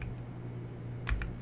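Two quick keyboard keystrokes, a soft click or two near the end of a short stretch of low room hum.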